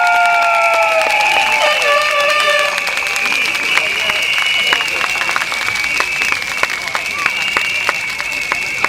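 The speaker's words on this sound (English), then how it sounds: "Round of applause." A large crowd at an election rally in Sengkang applauds and cheers loudly and steadily, with dense clapping and shouts throughout. Sustained whistles or high calls ring out over the clapping, and the sound stays loud from start to finish.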